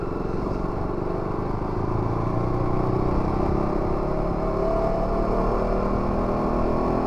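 An RC250 motorcycle engine runs steadily at a low idle-like rumble, a continuous mechanical drone throughout with no speech.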